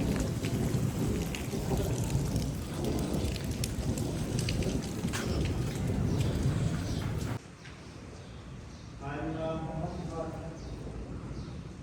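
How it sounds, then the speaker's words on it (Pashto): Rain falls outdoors as a steady hiss that is heavier at first and then softer, with a voice speaking briefly over it near the end. "نو دا ټایم باران وریږي"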